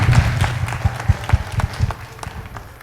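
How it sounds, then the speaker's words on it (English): Audience applause at the close of a school education talk, a brief burst of clapping with a strong rhythmic start that thins and fades over about three seconds. "let's give a great applause"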